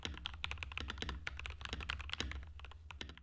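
Typing on an EpoMaker TH80 Pro mechanical keyboard, a close, fairly quiet run of quick, irregular keystroke clacks with no voices.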